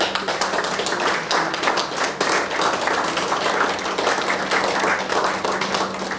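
Sustained applause from an audience at a burnout workshop for ITBP personnel, dense and steady clapping from many hands over a faint low hum, with no pauses.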